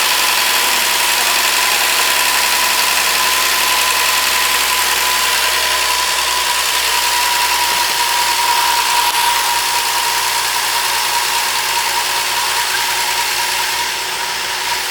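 A Ford 300 six-cylinder engine running just after starting in a 1954 International R100 truck, a loud, steady, close idle with an even mechanical drone throughout.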